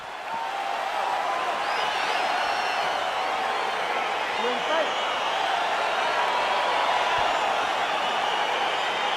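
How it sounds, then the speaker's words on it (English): A steady, dense roar from the arena crowd in the EA Sports UFC 4 fighting game as the Robbie Lawler vs. Santiago Ponzinibbio bout begins, holding at an even level throughout with occasional whoops rising above the din. "crowd getting excited as this fight gets underway"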